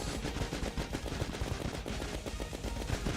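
Missiles fire repeatedly in Terraria, a dense, continuous stream of rapid crackling blasts mixed into loud, busy game sound.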